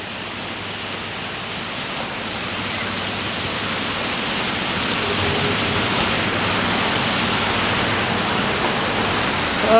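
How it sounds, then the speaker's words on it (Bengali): Steady heavy rain pours down outdoors, a dense hiss of drops on surfaces that grows slightly louder as it continues, close and uninterrupted, with no voices. "বৃষ্টি বৃষ্টি নেমে পড়েছে"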